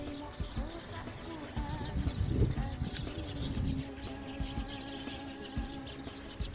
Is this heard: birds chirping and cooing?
yes